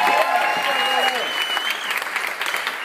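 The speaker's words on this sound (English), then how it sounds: "just round of applause for Mick and Valerie Donner" Applause from guests at a 50th birthday party in Dolans, a steady wash of clapping held for a few seconds with voices and a whistle-like tone mixed in.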